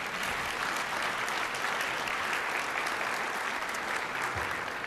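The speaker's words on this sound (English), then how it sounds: "give a round of applause for them" Sustained applause from a crowd at Joliet's State of the City address, steady and dense clapping throughout without a break.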